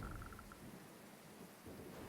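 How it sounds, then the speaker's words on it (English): Steady rain hiss from the video game Dead in Vinland, broad and constant, with a soft low rumble underneath; a brief tonal chime sounds at the start. "Day 12, only raining."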